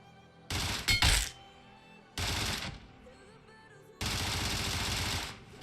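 Three short bursts of automatic rifle fire from PUBG Mobile, a loud sharp burst, a pause, then two longer sprays separated by near silence.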